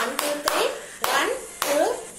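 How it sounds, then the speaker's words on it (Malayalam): Children clap hands in a rhythmic pattern, sharp claps coming in quick groups, while a voice and speech run over them. "ഇഷ്ടപ്പെട്ടോ എങ്കിൽ ഒന്ന് ക്ലാപ്പ് ചെയ്തേ"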